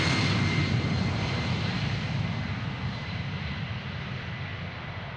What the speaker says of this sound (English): The next Airbus is already moving.